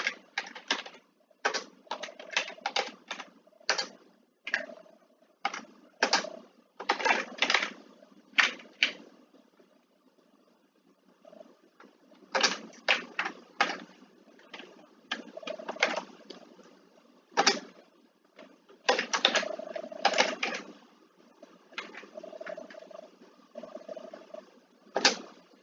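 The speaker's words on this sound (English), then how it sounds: "In fact, let's type it in." Typing on a computer keyboard, with bursts of quick key clicks and short pauses between runs of keystrokes. The sound is close and fairly soft, continues throughout and has no voices over it.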